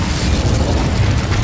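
A Hogwarts Legacy Incendio fire spell goes off as a dense, roaring whoosh of flame with a heavy low rumble, loud and close and sustained for the whole moment.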